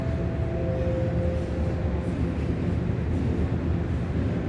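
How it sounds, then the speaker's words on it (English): Toronto subway trains rumble constantly overhead, Line 1 running just above a lower platform, a steady loud low-frequency roar with a faint brief squeal early on and no talk. "That's why you're going to hear constant rumbling."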